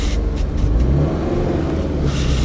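A 2013 Subaru BRZ engine revs hard at a racetrack launch, a loud, close, sustained roar that over-revs without letup for the whole moment.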